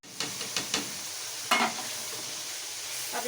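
Whole spices (cumin, black pepper, cloves, cardamom and cinnamon) sizzle in hot oil in a pan while chana pulao is being made, with a steady close hiss and a few clicks of a spoon stirring against the pan.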